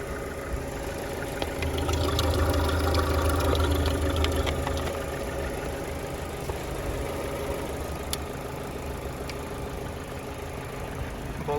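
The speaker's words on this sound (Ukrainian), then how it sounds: "Двигун працює рівненько." A car engine idles in a low, even rumble, steady throughout, with faint clicks and small mechanical knocks.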